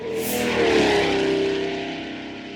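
Steady cabin road and engine noise inside a moving Mazda CX-5, a broad continuous rumble with a faint rising engine tone, fairly loud and unbroken throughout, no voices.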